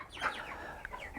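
Cornish cross meat chickens cluck softly and chirp in short, overlapping calls, close by with no talking.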